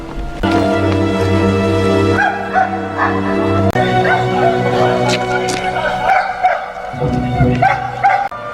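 In a film scene set in a German concentration camp, a dog barks repeatedly over sustained music, and someone talks at the same time.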